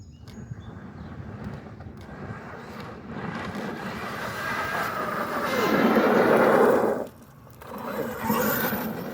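An Arrma Kraton RC car on a full-throttle speed run reaching about 42 mph, its motor whine building gradually to a loud peak, dropping off sharply, then rising briefly again over outdoor background noise.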